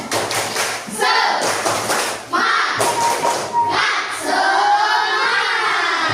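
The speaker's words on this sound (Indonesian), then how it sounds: "ya kita tepuk semangat" A sixth-grade class doing a rhythmic spirit clap, bursts of clapping and thumping in a patterned sequence with children's voices chanting between the beats in a classroom.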